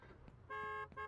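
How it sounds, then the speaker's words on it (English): A car horn sounds in the video game Fast Food Simulator: one sustained honk followed by a shorter second blast, loud and close, with no talking. "I said don't honk."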